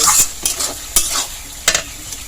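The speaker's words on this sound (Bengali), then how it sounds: "ঢাকনাটা সরিয়ে নিয়ে ভালো করে এটাকে কষিয়ে নেব।" Masala being stirred and fried in a pan while cooking egg bora curry, a soft background sizzle broken by several sharp scraping strokes of a spatula at irregular intervals, close and fairly loud, with no talking.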